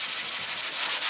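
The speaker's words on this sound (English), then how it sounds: "So I'm just going to sand it down like that" Close, steady sanding of joint compound on drywall with quick back-and-forth rubbing strokes, a dry gritty hiss with no talking.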